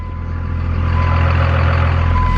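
A 1994-2002 Dodge Ram pickup engine idling close by, a steady low rumble with a constant hum, no talk.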